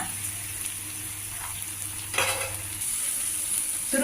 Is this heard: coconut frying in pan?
yes